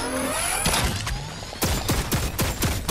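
Turret gunfire in the Fortnite video game: a burst of rapid shots, then a quieter gap, then a string of sharp repeated booming reports with falling tails, loud and close, with no speech.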